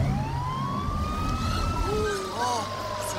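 A vehicle posing as an ambulance sounds its siren, a rising and falling wail that sweeps up and down over low traffic rumble nearby.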